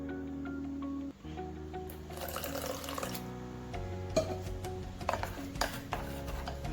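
Water is poured into a thick moong dal batter to thin it, a steady running and splashing stream over a continuous tap-like hiss, with a few louder splashes and stirring clinks toward the end.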